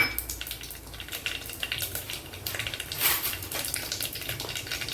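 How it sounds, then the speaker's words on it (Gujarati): Steady crackling sizzle of mustard seeds and cumin frying in hot oil, with light clinks of a pan or utensil throughout. "હવે તેલ ગરમ થઈ ગયું છે, તેમાં 1 ચમચી રાઈ અને 1 ચમચી જીરું નાખવાનું છે."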